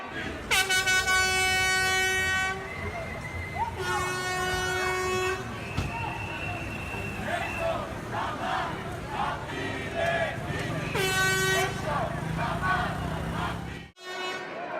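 A street protest over illegal dumping in Corfu, Greece, with long blaring horn blasts, some sustained and some repeated, over a loud, chanting crowd in the street.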